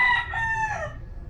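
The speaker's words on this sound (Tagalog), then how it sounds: "Ayun itong mga manok" Rooster crowing among backyard farm chickens, one long harmonic crow that fades out over about a second, fairly close and clear with no voices.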